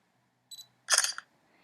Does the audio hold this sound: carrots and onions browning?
no